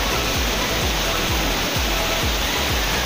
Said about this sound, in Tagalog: Ito yung waterfalls dito.